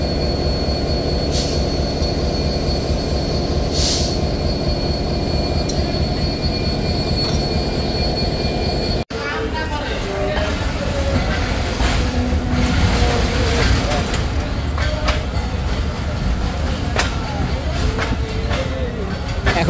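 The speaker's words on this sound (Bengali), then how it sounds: "নির্ধারিত সময় থেকে প্রায় 40 মিনিট বিলম্বে ট্রেনটি তার প্রথম যাত্রাবিরতি স্টেশন আব্দুলপুর জংশন ছেড়ে যাচ্ছে" The Banglabandha Express pulls out of Abdulpur Junction in Bangladesh with a loud, steady rumble of wheels on the rails, metallic squeals and clatter running without a break for the whole stretch.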